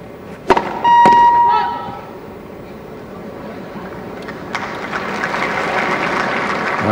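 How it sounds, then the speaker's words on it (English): Wimbledon crowd applause at a Federer vs Sampras tennis match, starting after a couple of sharp hits and a brief tone, swelling into steady broad clapping from the stands that keeps building to the end. "Round of applause"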